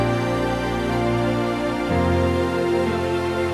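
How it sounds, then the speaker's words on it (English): String ensemble patches layered with a piano for definition, forming a dense, sustained harmonic bed with a chord change about halfway through, steady and full in the low end. "I decided to add a piano as well to give it a little bit more definition"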